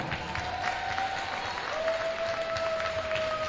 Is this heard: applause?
yes